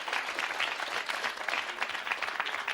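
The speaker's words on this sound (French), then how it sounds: "Applaudissements sans rire." A television studio audience applauds on a French game show, with brisk, steady clapping from many hands at moderate volume throughout.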